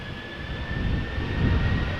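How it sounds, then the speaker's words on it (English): A KLM Boeing 737-800 bound for Helsinki takes off at Amsterdam Schiphol, its jet engines giving a steady roar with a thin high whine that swells slightly as it goes, and no voices. "This is KLM flight 1167 going to Helsinki, Finland, Boeing 737-800, turn and burn"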